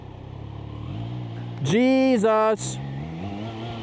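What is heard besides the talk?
Triumph Trident 660 motorcycle engine riding in a storm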